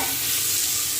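A tadka of onions and tomatoes for dal sizzles loudly in a pan, a steady, close frying hiss over one brief continuous stretch, with no voices.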